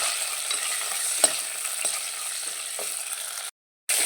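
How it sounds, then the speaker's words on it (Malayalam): Green chillies fry in hot coconut oil, a steady close sizzle with a few light clicks of stirring, cutting to silence briefly near the end. "ഈ മുളക് ഇട്ട് കൊടുക്കാം മുളക് നന്നായിട്ടൊന്ന് പൊരിയണം"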